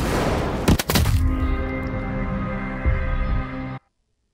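Enemy gun firing in the shooter game CrossfireX: a loud burst of heavy shots, then a sustained rattling barrage with a ringing tail that cuts off abruptly.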